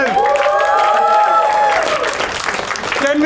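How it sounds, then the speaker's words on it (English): A studio audience on a comedy guessing-game show breaks into steady applause, dense and sustained throughout, with voices talking over the clapping. "Huge applause for Karunesh as well."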